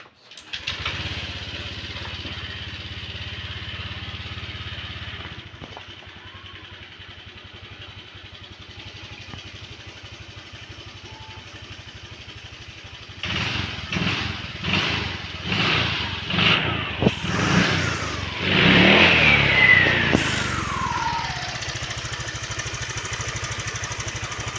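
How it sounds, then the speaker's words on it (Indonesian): An older Honda Vario 125 scooter engine, just after a throttle-position sensor adjustment, idles steadily, then gets a series of short sharp revs that rise and fall in quick bursts before settling back near idle. "selanjutnya kita nyalakan motor."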